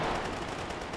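Rapid automatic gunfire in the shooter game Stalker GAMMA, a close, fast rattle of shots packed into one continuous burst.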